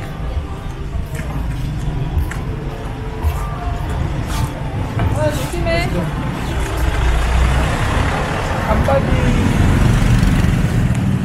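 Steady traffic rumble of cars and heavier vehicles rolling past on a narrow road right beside pedestrians, loud and continuous with rising swells as vehicles pass close.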